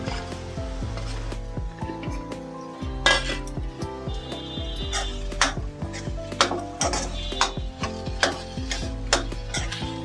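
Potato paratha filling being stirred in a hot pan, a spoon scraping and clinking against the metal with a steady sizzle underneath, close and fairly loud, with no voices.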